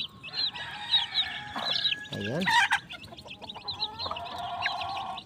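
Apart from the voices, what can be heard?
hen and newly hatched chicks clucking while feeding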